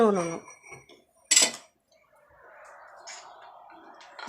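A pestle strikes rock salt in a home kitchen with a single sharp, clinking knock after a brief voice, followed by faint rustling and scraping.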